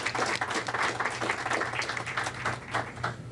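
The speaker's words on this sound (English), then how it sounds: "Let's give her a round of applause." An audience claps and cheers to welcome a singer onto a stage at a NASA launch social event, dense sustained applause throughout at steady loudness.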